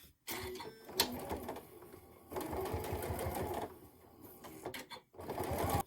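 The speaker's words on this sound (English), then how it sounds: "you can also fold your ends in and then just sew a seam on either side" A sewing machine stitches a seam along the side of a fabric berry carry-all case, running in several close, loud bursts separated by short pauses.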